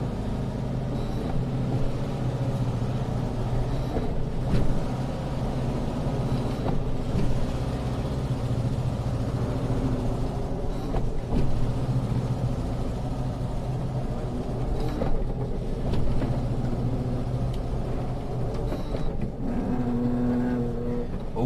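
Engine of a Volkswagen T2 van idling and pulling while reversing, a steady low air-cooled rumble with brief revs and clunks throughout, heard close and continuous.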